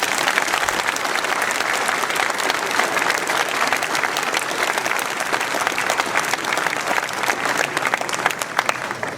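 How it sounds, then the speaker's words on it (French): An audience at a mayor's New Year's address in the Ouistreham Riva-Bella town hall breaks into loud, sustained applause, a dense wash of many clapping hands that holds steady for several seconds. "je vous demande de les applaudir."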